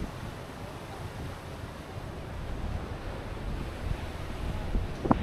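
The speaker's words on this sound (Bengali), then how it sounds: "আর সাগর ঢেউ হইতেছে দেখতে পাচ্ছেন, সাগরের ঢেউ আর ফিল খুবই ভালো লাগতেছে।" Sea waves washing at the shore in Malé, Maldives, a continuous broad surf roar mixed with wind buffeting the microphone, no voices.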